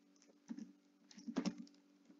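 Code being typed on a computer keyboard for a Python trading script: faint, sparse keystrokes in short clusters, quiet and close, with no speech.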